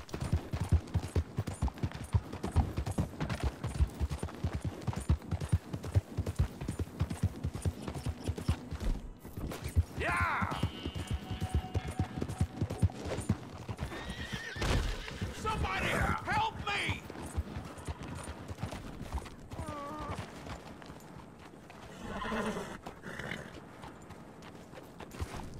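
Horses in the Red Dead Redemption 2 video game gallop with steady clip-clop hoofbeats and give occasional whinnies, heard beneath someone talking and bursts of other game noise.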